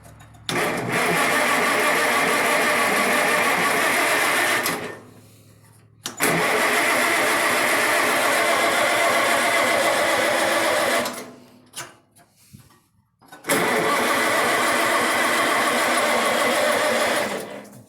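An old Cub engine cranks as it tries to start, in three long sustained bursts of churning mechanical noise separated by short gaps, loud and close with no talk.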